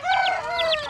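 A Black Australorp rooster gives a brief, close series of clucking calls, short rhythmic vocal bursts lasting about a second.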